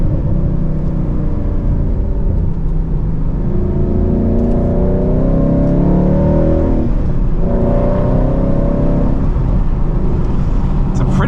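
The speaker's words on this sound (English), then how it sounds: "Blower doesn't seem to make a ton of noise. It's not all whiny like some of them." A 2014 Roush Stage 3 Mustang with a supercharged engine accelerating on a country road, heard from inside the car with windows partly down: a steady, loud engine drone that rises and shifts through gears, with a low blower whir.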